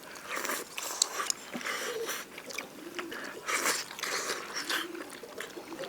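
Someone chews stewed fish, a big spicy dish of blue carp cooked at home. The close, quiet smacking and munching comes in an irregular rhythm.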